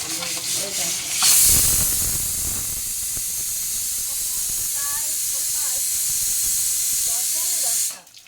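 Fish frying in a pan makes a loud, continuous steam-like hiss that swells early and holds steady before cutting off, while a voice talks faintly underneath.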